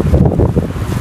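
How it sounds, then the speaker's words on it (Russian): Strong wind in the mountains buffets the microphone in a steady, low, roaring rumble that fills the whole second, with no pauses or gusts breaking through. "На улице ветер, правда, ужасно сильный"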